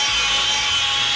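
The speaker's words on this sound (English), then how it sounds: "I'm using the handy dandy electric die grinder, and I'm opening that hole out" An electric die grinder opens out a hole in the metal of a Jeepster, giving a loud, steady, high-pitched whine that holds evenly for over a second, then cuts off abruptly at the end.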